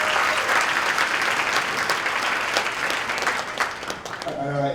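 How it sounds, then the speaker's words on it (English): Audience applause for the organizers at a conference speech, a dense steady clapping wash filling the room for several seconds, then thinning as a voice begins to speak near the end. "give a round of applause to our organizers here at this table"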